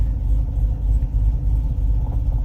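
A project Corvette with a GPI intake manifold, flex fuel kit and new injectors sits on a dyno, its engine giving a steady, loud, deep rumble at idle without a rev.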